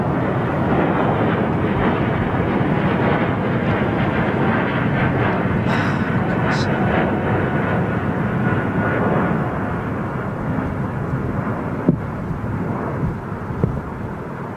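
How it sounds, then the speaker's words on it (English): A four-engine propeller aircraft flies over near London Heathrow, a loud, steady broadband engine drone with no speech, sustained across the whole stretch. "Heard a prop aircraft, 4-engine by the sounds of it"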